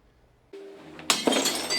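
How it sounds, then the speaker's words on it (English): Glass smashed at a smash room in Wauwatosa: a sharp crash and a burst of shattering, followed by tinkling shards and a second impact, loud and close with no talking. "breaking, smashing, and shattering is a great way to relieve stress"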